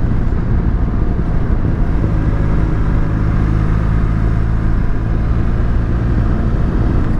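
A Benelli TRK502 motorcycle on a mountain road gives a continuous loud engine drone mixed with heavy wind rumble, steady throughout with no talking.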